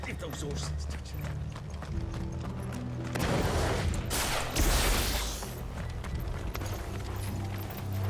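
Horses gallop in Final Fantasy XVI, a rush of hooves that swells loud mid-way and then fades, set against steady game music and a speaking voice.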